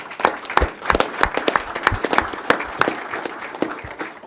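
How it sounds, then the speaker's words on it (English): A small group applauds at a city council meeting, with distinct individual claps in an uneven rhythm, moderately close and steady for about four seconds. "let me just begin by offering you our thanks and a round of applause"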